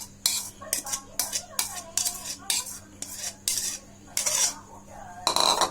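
Egg being mixed into bread in a bowl with a utensil, giving a run of close, sharp clinks and scrapes against the bowl in a steady rhythm, with no talking.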